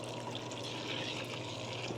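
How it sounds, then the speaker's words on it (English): Half a cup of water pours into a hot pan of melted butter on the stove for cream puffs, a steady close rushing sizzle and splash filling the short moment without pause. "Craig, do you want to add that half cup of water to it?"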